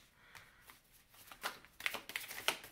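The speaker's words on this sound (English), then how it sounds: "let's shuffle. Let's get these out." Tarot cards riffle and slide in a quiet room, soft at first then building into a series of crisp, close shuffling bursts.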